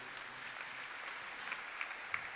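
Congregation applauding during a Q'eqchi' church sermon, a faint, continuous patter of clapping with a few sharper claps standing out near the end.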